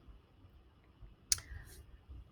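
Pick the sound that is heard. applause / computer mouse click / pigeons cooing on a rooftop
computer mouse click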